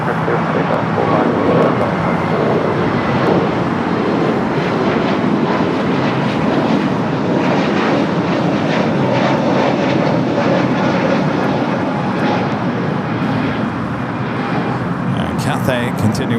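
An airliner takes off from runway 25 right at LAX, its engine roar broad and steady throughout, fairly loud, with a radio voice talking over it.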